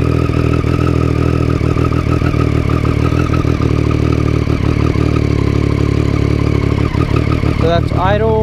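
Motorcycle fitted with a Dominator slip-on exhaust idling close by, loud and steady with an even pulsing throb, and a brief shift in tone at the very end.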